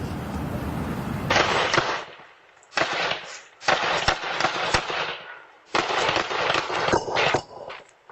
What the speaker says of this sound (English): A Ring doorbell capturing the sound of more than 10 gunshots